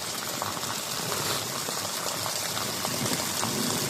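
Steady, dense hiss of evening rain falling in Dubai, an even wash of pattering noise with no pauses and no voices.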